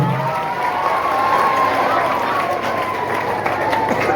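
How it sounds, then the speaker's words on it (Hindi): An audience claps steadily at a yoga session, a dense, continuous wash of applause with faint crowd noise throughout. "बजाओ ताली इन बहनों के लिए।"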